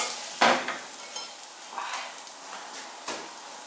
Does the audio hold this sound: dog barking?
no